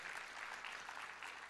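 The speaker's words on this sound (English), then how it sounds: "Can we give them a great big hand clap?" Congregation applauding at a church teaching event, a soft, continuous patter of many hands clapping heard from a distance at low level.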